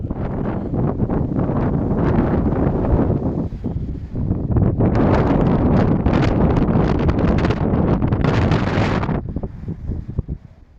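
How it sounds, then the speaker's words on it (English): Heavy wind buffeting a microphone outdoors in Spain, a loud continuous rumbling roar with gusty surges that swell stronger midway before easing off at the end. "It's pretty windy out there."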